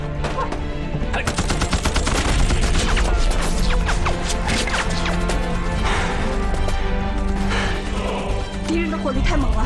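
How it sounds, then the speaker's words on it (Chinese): A battle scene in a Chinese war drama, where dense gunfire, rapid bursts and crashing explosions fill the whole stretch loud and close, with shouted voices mixed in the chaos. "敌人的火力太猛了"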